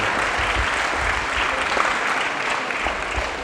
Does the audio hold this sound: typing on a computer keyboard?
no